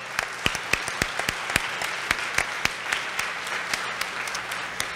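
A few individual claps ring out at an uneven pace for students at a Women @ Wentworth 2018 event, distinct and fairly close against a quiet room rather than a full crowd.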